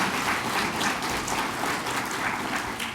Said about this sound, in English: Please, yes, clap for her.